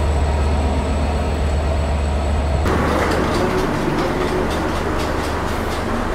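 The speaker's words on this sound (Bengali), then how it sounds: "লোকোমোটিভে যখন ঢ্যাং ঢ্যাং ঢ্যাং ঢ্যাং সাউন্ড হয়, এত জোশ লাগে না শুনতে" A Kapotaksha Express broad-gauge train runs between Khulna and Jessore, heard from inside as a continuous heavy rumble and rattle with rhythmic clanks that sharpen partway through, no talk over it.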